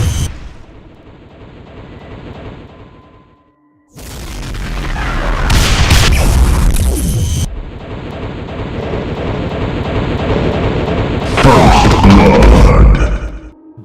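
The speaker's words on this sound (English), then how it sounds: "the dual BFG 9000 shots, which does have an after effect from the angle from the enemy itself" Dual BFG 9000 shots in a Doom mod fight against Cyberdemons: heavy, roaring energy blasts that boom and linger, with loud rumbling bursts and crackling after-effects in long sustained waves.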